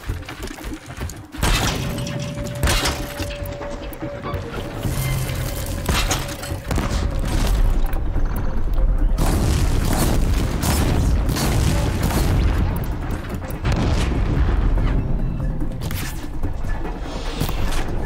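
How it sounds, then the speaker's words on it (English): Machine gun fire in Horizon Zero Dawn, on ultra hard difficulty, rattles in dense, sustained bursts mixed with heavy booms, thuds and mechanical clatter throughout the fight. "machine gun."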